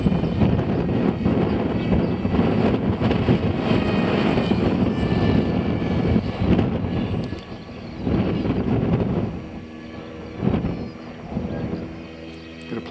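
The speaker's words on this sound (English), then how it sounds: "Got a plane coming to the circuit" RC model plane flying in strong, blustery winds at a model aircraft club field, its engine a loud steady drone with heavy wind buffeting the microphone, dipping and surging as it passes.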